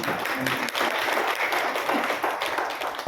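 An audience at a journalists' poetry gathering (kavi sammelan) applauds, a thick continuous patter of many hands at moderate loudness that lasts throughout with little change.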